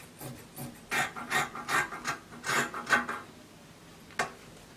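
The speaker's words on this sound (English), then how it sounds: "I'm cutting out the shoulder slope." Scissors snip through fabric while cutting the curved shoulder slope of a one-shoulder kaftan dress, giving a short run of rhythmic rasping cuts, close and fairly quiet, followed after a pause by one final snip.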